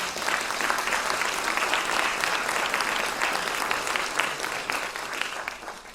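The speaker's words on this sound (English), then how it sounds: "Let's just give some applause to Paula." Dense, sustained applause from a theatre audience at the York Theatre, steady and enthusiastic throughout with no break, heard as a broad wash of many hands clapping.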